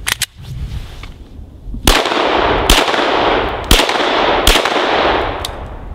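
Gunfire from a Smith & Wesson M&P Pro Series CORE pistol outdoors in cold, wet weather: a few sharp, loud shots spaced roughly a second apart, each one followed by a broad ringing wash.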